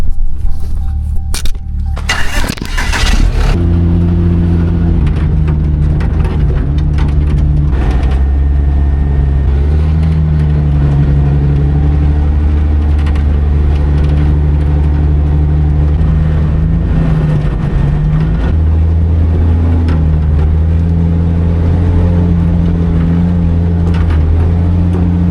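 A heavy $300K truck's engine holds a deep, steady drone while the driver feathers the throttle on a dusty climb, after a brief loud burst at the start, with small rises and dips in pitch and no talk.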